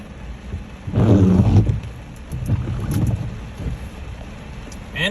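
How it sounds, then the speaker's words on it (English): Tropical storm Hurricane Hilary hits Los Angeles County: heavy, gusting wind rumbles and buffets the microphone in surging waves, with a soft rushing wash of rain beneath. "Hurricane Hillary has hit Los Angeles County."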